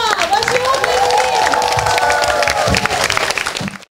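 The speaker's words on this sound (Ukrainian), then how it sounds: "Ваші оплески!" An audience applauds and cheers after a mass song performance, a dense, loud wash of clapping with a voice over it, ending abruptly after about four seconds.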